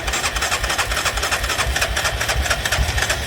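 A Yamaha Grizzly 600 ATV with a finicky key switch turns over: a loud, close, steady rhythmic chugging that pulses evenly throughout without catching into a run.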